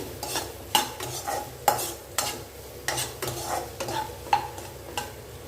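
Onions sautéing with salt in a pan for paneer butter masala sizzle softly under repeated scraping strokes of a spoon against the metal, a roughly regular rhythm of clinks and scrapes close by.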